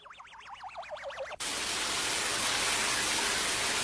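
A wavering, siren-like electronic tone gives way abruptly to a loud, steady rush of heavy rain-like noise falling from a cloud in a cartoon, continuing unbroken.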